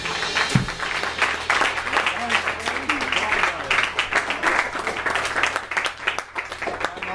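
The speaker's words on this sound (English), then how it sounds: "Can I get some claps?" An audience at a live Badgerhunt band show at LEMP claps in a dense, continuous patter, while a voice talks over the applause.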